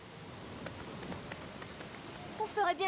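Steady light rain patters softly on a surface, with a few sharper drops, before a brief higher sound cuts in near the end, in a Winx Club cartoon.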